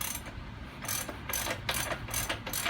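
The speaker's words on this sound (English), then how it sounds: "So torquing on the left side." Wrench torquing a car wheel nut, a steady run of close, loud ratcheting clicks in repeated bursts with no talking.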